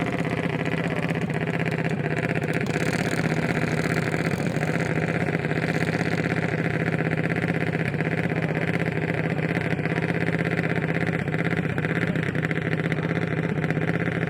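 A junior dragster's engine runs at the drag strip starting line, a steady, constant drone held at an even level throughout with no talking.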